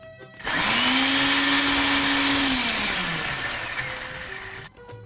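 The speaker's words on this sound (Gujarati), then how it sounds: "એને સતત મિક્સરમાં ક્રશ નથી કરવાની, ચાલુ બંધ કરીને કરીશું" A mixer grinder whirs loudly in one sustained burst, its motor pitch sagging as it crushes lentils, then cuts off abruptly.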